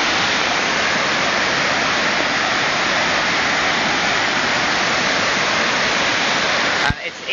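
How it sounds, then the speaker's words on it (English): A loud, steady roar of falling water from Dip Falls waterfall in Tasmania fills the whole stretch, broken only by a brief thump near the end. "Dip Falls waterfall."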